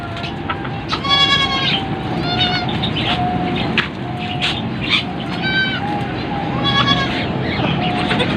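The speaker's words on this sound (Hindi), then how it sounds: "ये मक्खी चीनी बकरी है, 6 दांत में और गब्बन है" Goats bleat repeatedly at a livestock market in Karachi, loud close cries recurring every second or two over crowd murmur and someone talking.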